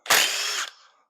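A power tool spins out the cam gear bolts on a Chevy LS engine during a teardown, one loud close whirring burst of about half a second that cuts off and trails away briefly.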